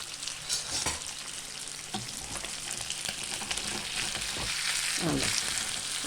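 Fish sizzles steadily in hot oil, a close, continuous crackling hiss broken by a few louder pops and scraping stirs.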